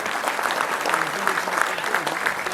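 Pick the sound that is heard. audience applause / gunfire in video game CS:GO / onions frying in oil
audience applause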